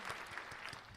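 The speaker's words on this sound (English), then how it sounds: "I would like to give a round of applause to all our haters" Brief applause on a radio show, a short, faint burst of scattered clapping lasting about a second at low level.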